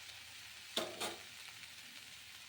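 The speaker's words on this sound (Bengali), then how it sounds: "পাঁচ ফোড়ন শুকনো লঙ্কা দিয়ে আলুটা কষিয়ে নিচ্ছি" Potatoes sizzling in hot oil with five-spice seeds and dried red chillies, a soft steady frying hiss with two sharper spatters or stirring scrapes close by.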